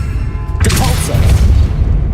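A Depulso spell blast from Hogwarts Legacy bursts in suddenly as a loud, broad whoosh and rumble that holds steady to the end of the clip.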